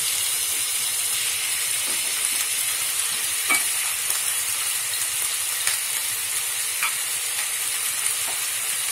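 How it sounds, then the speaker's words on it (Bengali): Half a kilo of cleaned prawns frying in hot oil for a prawn and okra fry, a loud, dense, steady sizzle and hiss with scattered small pops, close and without talking. "তেলটা গরম হলে আমি মাছটা দিয়ে দিচ্ছি।"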